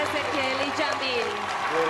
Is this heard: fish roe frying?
no